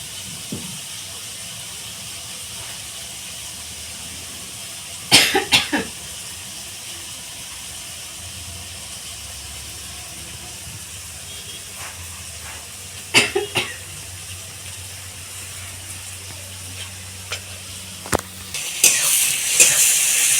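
Onions frying in a pan for a village-style home-cooked mutton dish, a steady soft sizzle and hiss running throughout, broken by a few sharp clatters of stirring.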